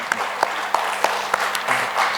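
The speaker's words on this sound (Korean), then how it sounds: "박수로 환영하도록 하겠습니다." Church congregation clapping to welcome new members at a Sunday afternoon service, a loose round of separate claps at a slow, uneven rhythm, moderately near and fairly light, with no talk over it.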